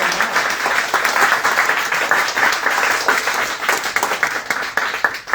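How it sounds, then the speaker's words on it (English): Audience applause at a live Q&A, a dense, loud wash of clapping that holds steady for about five seconds. "let's give them a round of applause"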